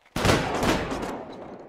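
Gunfire from a ceremonial salute volley in GTA roleplay (Cidade Alta). One abrupt, loud blast that rolls on and fades for over a second, heard alone.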